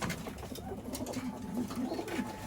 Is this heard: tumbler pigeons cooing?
yes